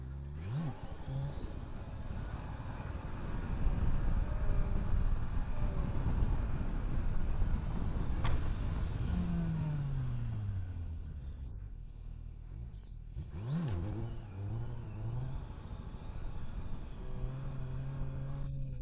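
A 2021 Kawasaki Z900 motorcycle is ridden, its engine note rising and falling through gear changes under constant wind rush, heard close from the rider's position.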